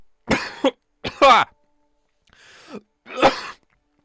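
Several harsh, close coughs come in short bursts with pauses between them, with no talking.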